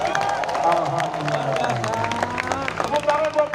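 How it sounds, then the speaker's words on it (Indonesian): Crowd at a labor demonstration bursts into applause and cheering, dense clapping mixed with shouts and babble, loud and close. "Tepuk tangan buat Mahkamah Konstitusi."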